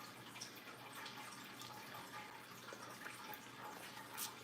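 Water running steadily in a home fish tank, a continuous faint trickling and splashing wash with small drips, heard alone.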